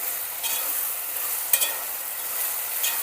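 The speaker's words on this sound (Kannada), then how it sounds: "ಒಂದು ರೌಂಡ್ ಹಂಗೆ ಮಿಕ್ಸ್ ಮಾಡ್ಕೋಬೇಕು" Vegetables for vegetable upma being stirred in a pan, a steady soft sizzle with scraping strokes and a sharper clatter near the middle, moderately close with no talking.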